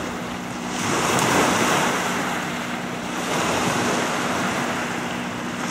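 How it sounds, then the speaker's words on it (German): Waves lapping on the shore of a very large lake beside a campsite, a steady broad wash of surf that swells and eases, mixed with wind noise on the microphone, with no voices. "Man hört immer die Wellen da vom See."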